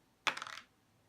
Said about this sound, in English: So I'll roll another dice for the Rogue Galaxy.